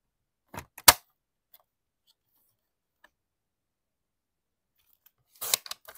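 Scissors snip through paper in a few sharp, brief cuts, a close crisp slice near the start and a quick cluster of snips near the end, separated by silence.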